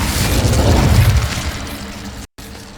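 The Incendio fire spell is cast in Hogwarts Legacy: a loud, whooshing burst of flame with a heavy low rumble that swells and then tapers off.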